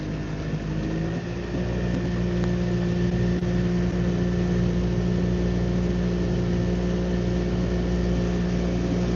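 A boat engine runs at full throttle on Flathead Lake in chilly weather, a steady, continuous loud drone with constant pitch throughout, close and unbroken.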